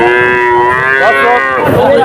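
A cow at a cattle market gives a loud, close, drawn-out moo with rising and falling tones, followed by a second shorter call.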